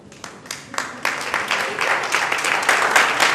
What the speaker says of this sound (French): On accueille vos ovations